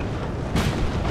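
Artillery fire in the Napoleon: Total War game: a single deep boom about halfway through, over a constant rumbling battlefield background.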